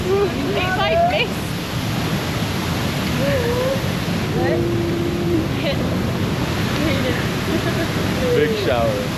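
Roaring water at the Ouzoud Waterfalls in Morocco makes a constant broad rush, with people talking and calling over it at intervals.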